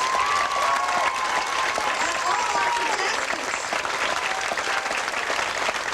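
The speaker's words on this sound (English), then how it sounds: "let's give a big round of applause for all our winners" Audience applause for contest winners at Seatrek '89, a Star Trek fan cruise event: dense, sustained clapping fills the whole stretch while someone speaks over it through a microphone.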